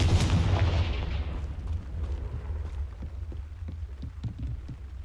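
Confringo fire spell from Hogwarts Legacy bursting in a heavy explosive boom that fades into crackling, debris-like rumble and scattered small pops, with no speech.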